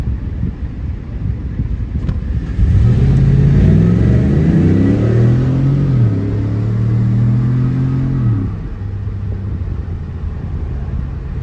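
A Cadillac Escalade with DOD delete and an upgraded exhaust accelerates hard from a traffic light, a loud deep throaty engine note climbing through the gears over several seconds, then easing back to a low rumble with wind noise.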